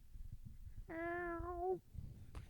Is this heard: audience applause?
no